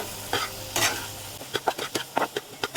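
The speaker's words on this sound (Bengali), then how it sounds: "এখন দিয়ে দিব শিমের বিচি। এখন সুন্দর করে কষিয়ে নিব।" Bean seeds sautéed with spices in a pan sizzle steadily while a spatula scrapes and stirs in quick, rhythmic strokes, close and moderately loud, with no voices.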